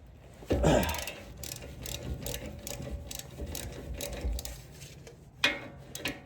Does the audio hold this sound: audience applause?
no